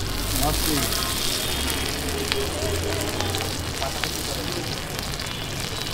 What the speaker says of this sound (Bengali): নগদ গরম গরম আমি এখানে ফ্রাই করে দেবো